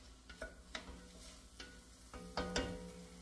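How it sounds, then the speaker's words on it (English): Vegetables sautéing in a pan while being stirred for Gullah shrimp stew with okra: a faint, low sizzle with several distinct scraping stir strokes and clinks spaced irregularly, close and quiet, no talking. "We're going to give it a stir. And we're going to let this saute up and get nice and soft."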